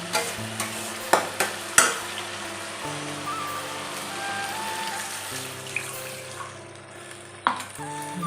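A mixture frying in released oil in a pan, with a soft continuous sizzle beneath sharp metallic taps and scrapes of a spatula, close by, several clacks near the start and one near the end, no talking.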